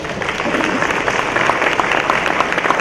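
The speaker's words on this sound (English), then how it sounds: "Let's give her another round of applause." An audience at a chamber of commerce luncheon applauds, a dense, steady round of clapping from many hands that carries on evenly throughout.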